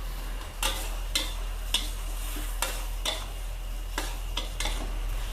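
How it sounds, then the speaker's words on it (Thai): Mixed vegetables and pork stir-fried in a pan over high heat: a steady sizzle with repeated scraping strokes of a spatula against the metal, close and fairly loud, no voices. "ผัดไฟแรงๆนะคะ"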